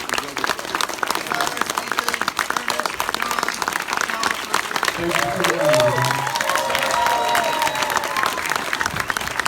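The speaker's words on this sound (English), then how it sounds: "Hey, big round of applause." Audience at a Screamfest horror Q&A for Tales from the Crypt: Demon Knight claps steadily in a room, a crisp rapid patter of many hands, with a brief voice and whoop rising midway over the clapping.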